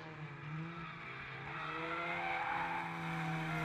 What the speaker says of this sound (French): On entend les coups d'embrayage du leader Antoine Amar